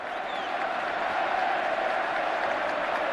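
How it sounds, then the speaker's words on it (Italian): A stadium crowd at San Siro rising to its feet to applaud a player during an Inter versus Napoli match, a broad, steady wash of distant clapping and cheering. "si alzano tutti in piedi al Meazza per applaudire Thiago Motta"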